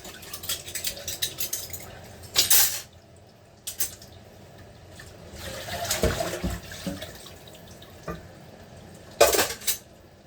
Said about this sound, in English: Well, it's been a long time since I've done dishes.